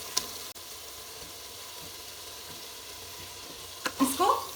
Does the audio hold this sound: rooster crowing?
no